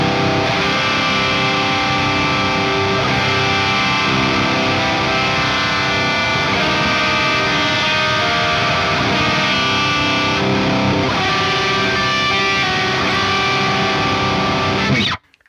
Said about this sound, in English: let's go ahead and jump in and just hear some heavy riffs with the new STL Tones Meridian 31